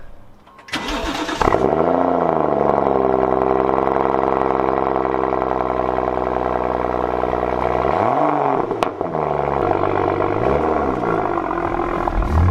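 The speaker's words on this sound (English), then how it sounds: "So this is a BMW M235i. It's rear wheel drive. It's got a 3-litre petrol engine, 6-cylinder, turbocharged" A turbocharged 3-litre six-cylinder petrol engine in a rear-wheel-drive BMW M235i cranks and fires, then settles into a steady, nearby idle, broken by a couple of short throttle blips near the end.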